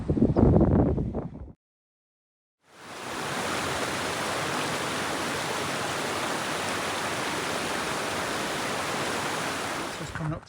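A small tributary stream pours into a river in the Rothiemurchus and Cairngorms hills in summer, a steady, loud, close rush of water that runs on alone after a brief burst of noise and a moment of silence.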